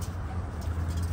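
Domestic flying pigeons at a rooftop loft coo in a low, steady, continuous murmur, close by and without talk.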